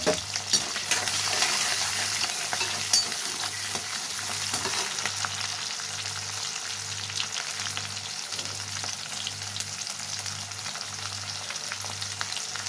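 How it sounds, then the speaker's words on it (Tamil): Steady, crackling sizzle of whole garlic deep frying in hot oil, close up and continuous with no talking. "இந்த எண்ணெயிலே நல்லா டீப் ஃப்ரை பண்ணலாம்"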